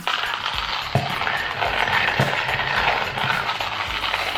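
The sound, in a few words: coffee grinder grinding coffee beans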